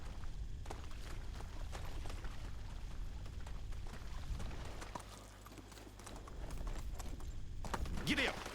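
Horse hooves clip-clop at a steady gallop in the medieval video game Medieval Dynasty, a continuous rhythmic patter under a low rumble, with a voice speaking over it near the end.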